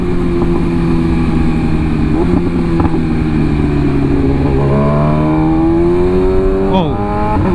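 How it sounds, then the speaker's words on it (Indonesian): BMW S1000RR M Package motorcycle engine revving under load, a loud, close, steady drone that climbs in pitch, then a sharp downshift with auto-blipper throttle blips near the end, with wind noise over it. "Downshiftnya juga, auto blippernya halus banget."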